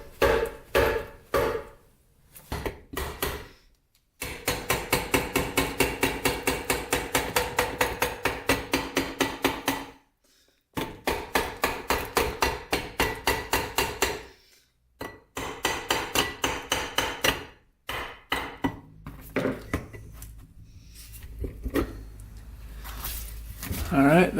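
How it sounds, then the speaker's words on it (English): Hammer pounding a part off a junk ATV 4x4 engine to split the case, heard as long runs of fast, loud, evenly spaced metallic blows, broken by brief pauses. "Let's see if we can pound this thing off now."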